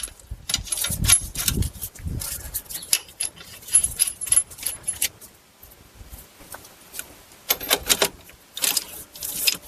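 Strut mount bolts on a Buick Lucerne or Cadillac DTS are tapped into place, producing a series of light, irregular metallic taps and clinks up close, with short pauses between bursts.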